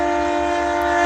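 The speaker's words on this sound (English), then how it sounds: "I stay by a train. So I don't want to lose my point. I do stay by a train." A train sounds a loud, sustained horn with steady harmonic tones, close by and unbroken for about a second, with no talk over it.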